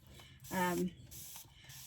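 A spray bottle of 99% alcohol squirting during resin work, one short close spritz with a faint mechanical trigger click, followed by quieter handling noise.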